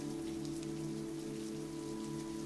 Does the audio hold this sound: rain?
yes